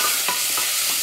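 A pan of carrot, leek, celery, onion and parsnip fries with a dense, loud sizzle, with a couple of brief stirring scrapes over the continuous hiss, heard up close.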